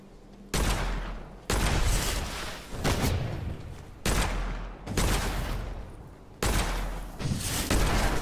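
Gunfire from the dark fantasy shooter Witchfire: a series of loud, sustained automatic bursts, about six rapid volleys separated by short pauses, close and dominating with no talk over them.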